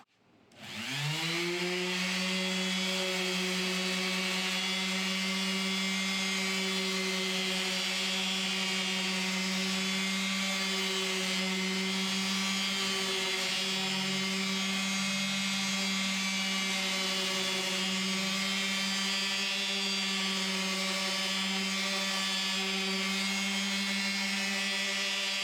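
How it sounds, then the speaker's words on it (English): A power sander works an epoxy nightstand outdoors, starting up and then holding one loud, steady whining drone with no voices. "gonna get some sanding done before it gets too dark out"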